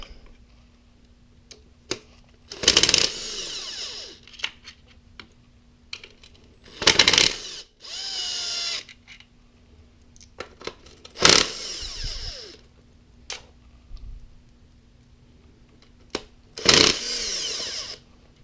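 Power tool zipping out timing cover bolts on a Mini Cooper S R56, four short loud bursts spaced a few seconds apart with quiet pauses and small clinks between, no talking.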